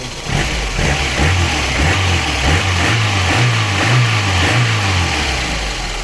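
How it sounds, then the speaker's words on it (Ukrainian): A VAZ 2108 car engine, freshly rebuilt and just started cold, idles steadily and loud with a slightly uneven, shaking low rumble and faint rev fluctuations throughout, no talk heard. "Ось так працює на даний момент наш двигун. Досить він ще холодний, я його тільки завів."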